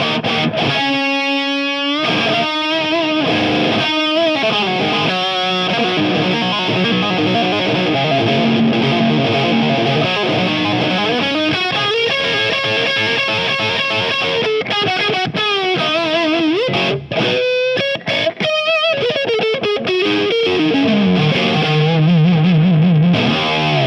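Heavily distorted electric guitar, a Strat-style guitar with a brass bridge, plays chords and bends continuously, loud and close, with thick effects-laden tone.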